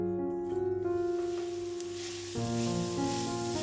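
Onions sizzle and hiss steadily in a hot pan for a Hungarian sausage dish, a soft continuous frying sound with a light stir partway through, no talking.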